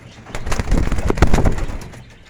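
Racing pigeons, old and young birds in a loft, coo in a dense, close burst of soft throaty calls that swells and fades over a couple of seconds.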